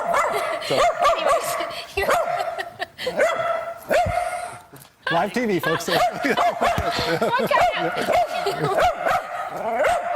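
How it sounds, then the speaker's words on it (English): A dog barks and yips repeatedly in quick bursts, close by, at its own reflection, while people talk and chuckle over it. "he's barking because he can see himself"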